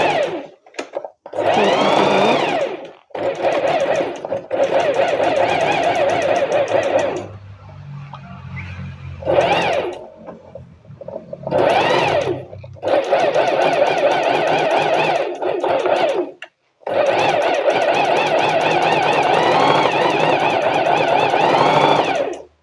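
A sewing machine stitching smock-ring curtain fabric, running in several long whirring bursts broken by short pauses, with rapid mechanical chatter near and loud.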